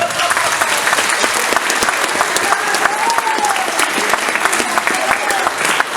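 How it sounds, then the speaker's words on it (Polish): Loud, dense applause from a crowd gathered at a church retreat event in Andrychów, vigorous clapping that swells continuously and close up, with scattered voices and cheers mixed into the din. "Wielkie brawa!"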